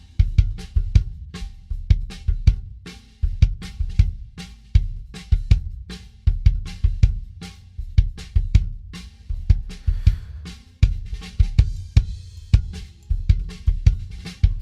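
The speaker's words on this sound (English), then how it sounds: "start with the kick drum on this track here" Kick drum from a Paperback Writer multitrack, played isolated: a steady stream of punchy low thumps in a driving rock pattern, loud and alone with no other instruments.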